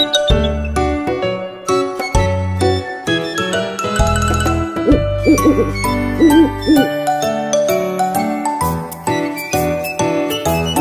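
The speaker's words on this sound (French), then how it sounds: "Dans un chêne vivait un vieux hibou." Owl hoots ring out amid a bright children's nursery-rhyme tune with chiming, tinkling melodic notes and a steady bass line, the hooting phrases repeating over the music throughout.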